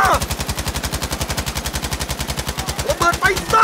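Rapid machine gun fire in Battlefield V, a fast, evenly spaced burst of loud shots running continuously, with brief in-game voice and effects near the end.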